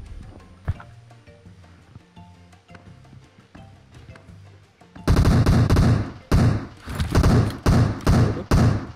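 Loud, dense bursts of explosive impacts and rapid gunfire erupt in the second half of a PUBG battle royale match, following a quieter stretch of muffled in-game ambience and scattered thumps.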